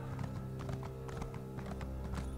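Horse mount in Elder Scrolls Online trotting with steady, rhythmic clip-clop hoofbeats over a constant game music bed, fairly close and even in volume, no talking.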